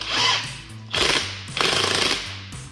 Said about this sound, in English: Now I'm gonna impact them on slightly, not too much.